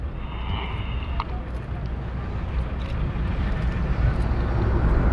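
Red Arrows jets fly a formation turn at the Miramar Airshow, their roar building steadily from distant to louder under light wind noise.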